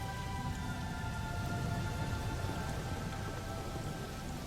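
Rain falls in a steady, dense hiss of drops on surfaces, even and continuous throughout, with no voices.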